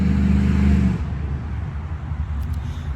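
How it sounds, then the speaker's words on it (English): Cars rush past outdoors in the background, a loud passing whoosh fading after the first second into a steady, distant traffic rumble, with no voices. "ignore the cars in the background"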